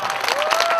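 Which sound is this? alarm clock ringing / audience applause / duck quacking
audience applause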